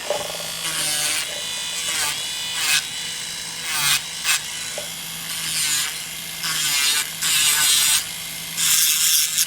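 A small electric nail file drill whines in repeated bursts, its high buzzing pitch shifting as it starts and stops, close and fairly loud.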